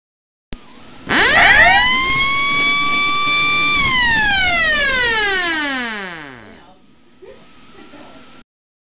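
A Tucanos 60 EX alarm siren winds up sharply, holds a loud, harmonically rich wail for a couple of seconds, then glides steadily down in pitch and dies away, leaving a faint hiss and a small clatter at the end.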